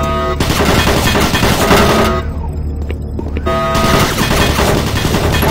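Automated turret guns firing in DOOM 3, a loud sustained rattling barrage that briefly drops away mid-clip before resuming at full intensity.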